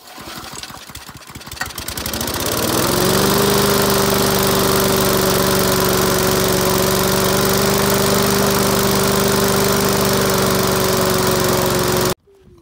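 Victa lawn mower with a Briggs and Stratton 4-stroke engine starts with rough sputtering, then settles into a loud, steady drone before cutting off abruptly.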